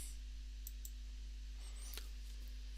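A computer mouse clicks during a server software installation, one faint, sharp click near the end with a couple of lighter ticks earlier, over a steady low electrical hum.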